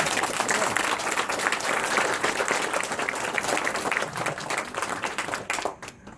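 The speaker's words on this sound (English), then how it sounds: "everyone, give him a round of applause." Crowd applause at a flag ceremony of the three Cherokee Nations at Red Clay State Park, Tennessee: steady, dense clapping from a large outdoor gathering that holds for about six seconds, then thins out and stops near the end.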